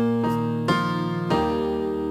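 Piano chords walk down from the four to the three to the two in three struck steps, each sustained and ringing before the next, played alone.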